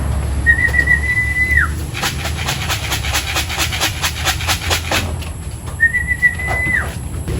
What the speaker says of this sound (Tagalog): Parang mabubulol ako kakasipol dito mga kalapatids ha.